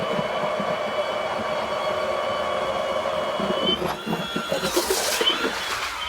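A powered auger drones steadily as it bores a hole through about 20 inches of ice for ice fishing, then gives way to rougher scraping and churning near the end.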